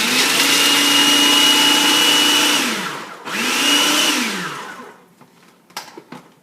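A loud blender chopping walnuts and garlic whirs in two bursts, the motor winding down between them, then stops, followed by a few faint clicks and knocks.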